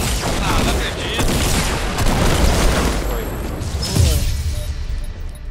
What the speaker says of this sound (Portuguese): a granada pegou em cima de mim